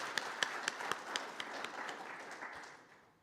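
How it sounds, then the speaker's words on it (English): An audience applauding at a strategic plan launch event, a burst of scattered clapping with distinct sharp claps that thins and fades out over a few seconds. "another round of clap for Ambassador"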